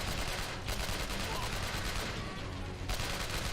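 Sustained gunfire in the shooter game Chernobyl Commando, a continuous loud barrage of shots blending into a dense, roaring wash with a brief dip partway through.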